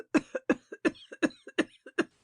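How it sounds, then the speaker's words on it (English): A woman's laugh breaks into a run of short, close coughs, about nine sharp bursts in an uneven rhythm over two seconds, then fading out, with no other sound around them. "her laugh ending in a cough"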